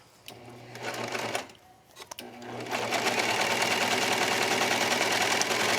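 A sewing machine stitches the edge of a cork fabric pillow, a brief buzzing run, a short pause with a few clicks, then a steady rapid mechanical whir close by.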